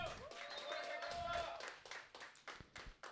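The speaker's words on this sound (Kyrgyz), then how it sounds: "дагы жол кол чабуулар болсун" Clapping from a small audience at a Kyrgyz-language stand-up comedy show in an art cafe comes through under a voice, then thins into a few separate claps at the end.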